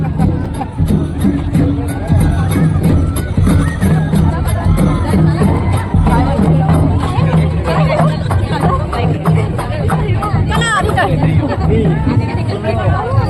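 Large crowd at a tribal cultural unity gathering in Pankheda, Sakri, Dhule, dense chatter and hubbub close by with scattered shouts, steady throughout.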